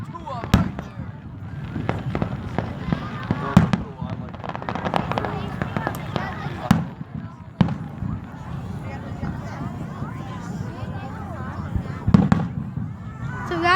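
Fourth of July fireworks bursting in quick succession with sharp cracks and booms over a steady crowded background, people talking throughout.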